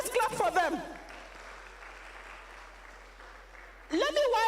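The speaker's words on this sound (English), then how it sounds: "Let's clap for them." Soft, steady applause from a university research conference audience, faint and distant, framed by someone speaking loudly before and after.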